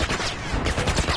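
Gunfire in The Last of Us, a brief, dense and loud burst of rapid shots that fills the whole moment with no gaps and no speech.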